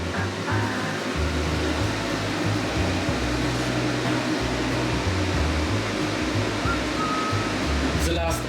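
Steady broadband whooshing of an electric fan blowing air, constant and fairly loud throughout, with a faint brief tone near the end.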